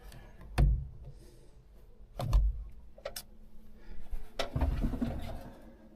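Bird calls sound outdoors on a farm on harvest day: a few short, sharp chirps spaced a second or two apart over a low, steady rumble of background noise.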